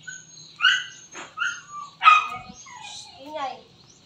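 Several sharp, high-pitched yips and barks from a small dog come in irregular bursts, fairly close, with quiet gaps between them.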